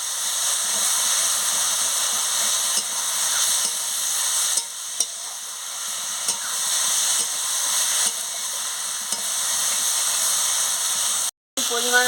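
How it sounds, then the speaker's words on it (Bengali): Potatoes being sautéed in a pan for a tilapia fish curry, a steady close sizzle and hiss of frying with occasional stirring scrapes, continuous for the whole stretch. "সঙ্গে আলুগুলো দিয়ে দিচ্ছি, দিয়ে ভালো করে কষিয়ে নিচ্ছি।"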